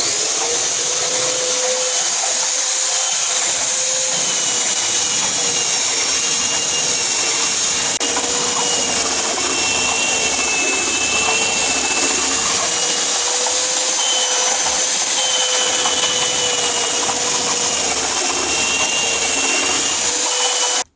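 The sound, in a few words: drill-powered oscillating spindle sander running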